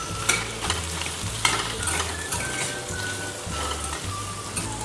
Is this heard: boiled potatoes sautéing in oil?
yes